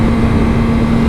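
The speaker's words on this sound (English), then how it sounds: "you can hear that it's having no struggle on the engine whatsoever" A motorcycle engine runs in second gear at a steady moderate road speed, giving a continuous low droning hum with a constant tone, close and loud, with no speech.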